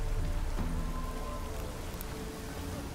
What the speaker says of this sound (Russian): Всю сегодняшнюю серию почти что дождь пролил, да?